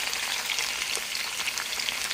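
Spare rib pieces frying with tomato in a pan for sinigang, giving a steady, close sizzle with soft crackles throughout and no talking.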